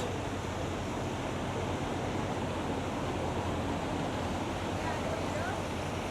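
Steady splashing water runs continuously from a fountain outside St Paul's Cathedral in London, a broad even rush playing nearby, with no clear voices above it.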